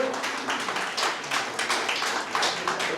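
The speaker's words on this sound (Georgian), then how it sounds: "მოდი ჯერ აპლოდისმენტები დავაჭიროთ აი ეს წიგნი" Audience applause fills a book presentation, a dense, steady wash of many hands clapping close by for the full stretch, with no voices rising above it.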